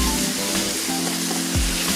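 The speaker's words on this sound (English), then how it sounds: "now you can hear it sizzling away" Argentinian empanadas fry in hot oil with a steady, dense sizzle that stays loud and close throughout, with no voices over it.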